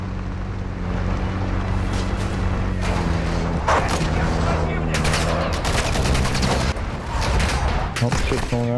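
Gunfire in a video game: continuous crackling shots and heavier bursts under steady background rumble, with players talking over the shooting throughout.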